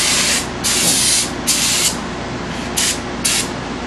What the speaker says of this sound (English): Just take it and just give it a quick spray.